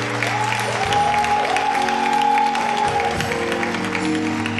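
Audience applause at a church celebration marking fifty years of ministry, a steady wash of clapping that stays loud for several seconds alongside sustained musical tones underneath.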